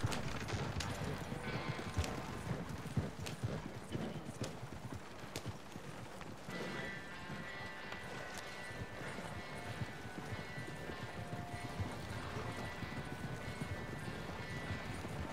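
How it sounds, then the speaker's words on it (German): Horse hooves clip-clopping in the Red Dead Online video game, a steady rhythmic trot with an occasional whinny, continuing under game music and ambience throughout. "das ist ein Pferd"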